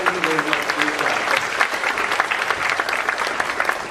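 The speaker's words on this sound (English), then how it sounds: "One last round of applause for us." Symposium audience applauding in a hall: loud, dense, sustained clapping from a large crowd, with a voice briefly audible at the start beneath the applause.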